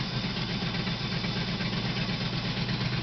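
A 1968 Shelby Cobra GT 500 KR engine idles steadily after being revived in a project car, a close, even, throbbing low rumble with a regular pulse and no talk.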